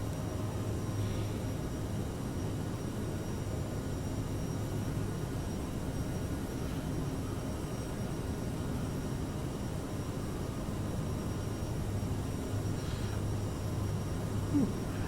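An Aerosoft CRJ 900 jet climbing after takeoff in Microsoft Flight Simulator 2020, a steady, unbroken engine roar and cabin rumble that holds at one level throughout.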